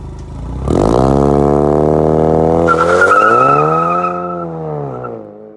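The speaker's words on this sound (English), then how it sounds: "do a little tiny burnout for you guys" A tuned 2019 Ford Mustang EcoBoost revs hard for a small burnout, its engine climbing loudly as the tires break into a sharp squeal that peaks and then fades.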